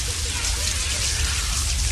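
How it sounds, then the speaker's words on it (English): Steady rain falling, a dense, even hiss of drops spread across the whole short stretch with no pauses. "Everyone's trying to get out of the rain."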